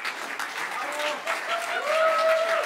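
Applause from a cabaret audience at a summer comedy club show rises under a voice that talks over it, then lingers at a moderate level.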